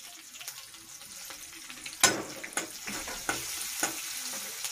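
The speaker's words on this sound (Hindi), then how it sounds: "इन सारी चीज़ों को हम अच्छे से लाल होने तक भून लेंगे।" Cumin, onion and bay leaves frying in oil in a pan, with a steady close sizzle and a few sharp scraping stirs and crackles, one louder clatter partway through.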